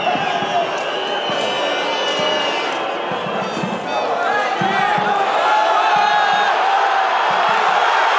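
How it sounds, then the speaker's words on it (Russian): Football fans of Yenisei and Lokomotiv chant and cheer loudly in the stadium stands as a match goes on, a dense and steady crowd roar with rhythmic shouted chants throughout. "Фанаты «Локомотива» и Енисея соревнуются, кто громче поддержит свою команду."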